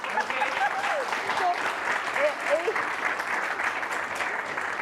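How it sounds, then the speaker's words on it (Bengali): A television talk show studio audience gives steady, dense applause throughout, with a voice speaking over the clapping. "প্লিজ এটার জন্য একটু তালি হয়ে যাক"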